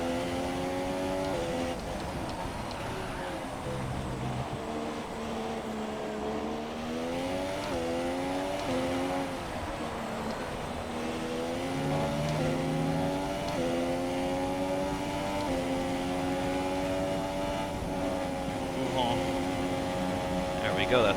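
Formula 1 race car engines at Spa in a racing video game, a steady high-pitched whine rising and falling through gear shifts across the whole stretch, loud and continuous, with someone talking over it at times.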